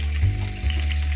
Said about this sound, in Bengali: এবার আমি চিকেন কষার জন্য আলুটা ভেজে নেব লাল লাল করে।